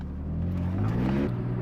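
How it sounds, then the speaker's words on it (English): Inside a BMW E46 M3 in sport mode, the engine idles while warming up, giving a steady low rumble with a slight rise in revs midway and no talking. "I'm gonna wait for the car to warm up a bit before I step on it"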